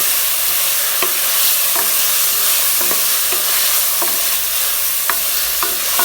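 Onion, green chilli and ginger-garlic paste sizzle steadily while frying for ghee rice, with a loud continuous hiss and crackle, broken by occasional scrape-like clinks of stirring, and no voices.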